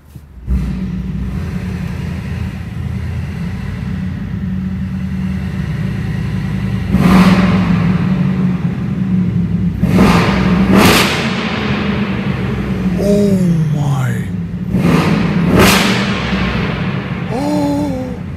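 A 900 hp Brabus Mercedes-AMG GLE 900 Rocket from 2022 rumbles at idle in sport mode, then revs hard several times in loud, sharp bursts that fall back to a deep burble, heard close and very loud.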